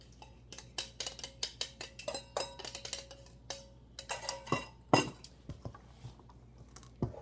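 A utensil tosses a quinoa salad with chunks of avocado, giving a steady run of light clinks and taps against a bowl, close and fairly quiet, then a few louder scrapes near the end.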